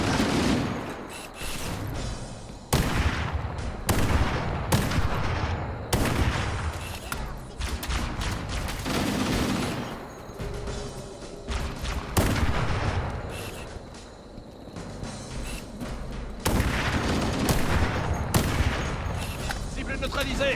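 Rapid gunfire bursts and heavy blasts from a Halo: Combat Evolved firefight, loud and dense with repeated volleys and booms, with a voice briefly heard among the shots.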